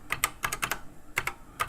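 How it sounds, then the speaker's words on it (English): Fast bursts of keystrokes on a Kaypro computer keyboard under CP/M, clicking in quick uneven clusters with short pauses between them, close-up and clear with no talk. "As always, I'm typing around the camera mount here."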